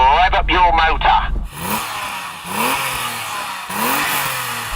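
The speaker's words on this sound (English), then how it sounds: "so go on then Tony, rev up your motor." A BMW M5 engine revs in repeated rising bursts, three or four throttle blips with a rasping, climbing tone, heard after a brief stretch of speech at the start.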